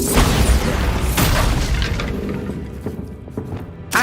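Bombarda spell blasts in Hogwarts Legacy, a dense rumbling boom with bursts and thuds, loud throughout and fading into scattered pops near the end.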